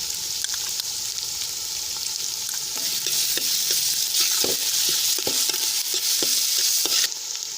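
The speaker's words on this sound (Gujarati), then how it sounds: "डूंगળी आछा गुलाबी रंगनी थाय त्यां सुधी आपणे संतळावा देशुं" Onion sizzles and is stirred in a hot pan with green garlic and ginger-garlic-chili paste, a steady frying hiss broken by repeated scraping strokes of the spoon, close and without talk.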